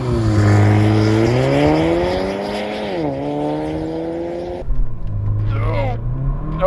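Porsche Macan base model under launch-control acceleration, engine revving hard and rising steadily in pitch, a PDK gear shift dropping the revs midway before climbing again, loud and close from inside the car.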